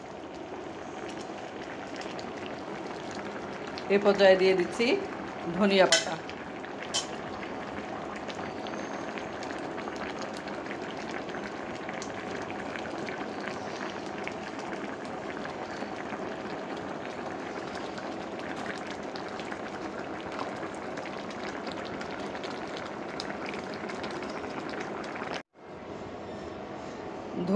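Fish curry of aair fish simmering under a lid in a pan, a steady soft bubbling hiss running throughout with a brief clatter near the start, while a voice talks over it.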